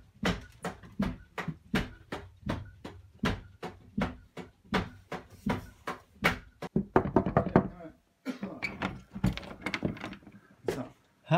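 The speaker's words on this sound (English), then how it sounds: "I can hear you knocking" Knocking on a tour bus door, a long run of rapid, rhythmic, drumming raps, steady at first and then more irregular, with a short pause partway through.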